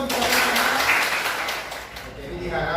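Indonesian classroom students clap together in a short burst, loud and close, with a voice talking over the applause.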